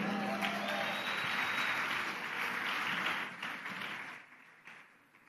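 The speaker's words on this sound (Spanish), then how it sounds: "Las mujeres le dan un aplauso al Señor." A congregation claps and applauds for the Lord during a church service, a sustained, dense round of clapping that fades and thins toward the end, with a few scattered voices mixed in.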